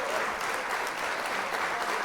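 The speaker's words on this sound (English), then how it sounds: "let's give our own round of applause to the legends" A crowd applauds OutKast at the 2025 Rock & Roll Hall of Fame induction, a thick, even wash of clapping that carries loudly through the whole moment.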